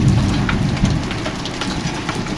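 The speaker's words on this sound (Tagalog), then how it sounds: "Inulan buong yelo, eh." Heavy hail and rain pound down in Madrid during summer, a dense, loud, continuous hiss and patter of drops and ice hitting surfaces, close by with no voices.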